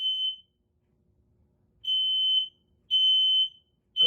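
A smoke alarm triggered by canned test smoke sounds loud, shrill, high-pitched beeps in a repeating pattern with short silent gaps, with faint background rustling between them.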